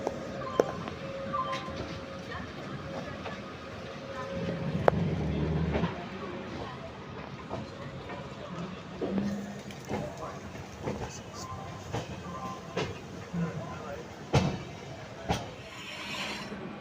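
Nandan Kanan Express superfast passenger train heard from inside a general coach, a steady rolling rumble with occasional rattles and clunks, while people talk quietly nearby.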